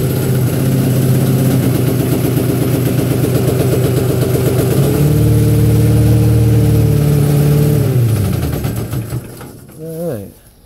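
A homemade truck-mount carpet cleaning machine's engine runs loud and steady with a harmonic drone, shifts to a smoother higher pitch around midway, then cuts off and briefly winds down near the end.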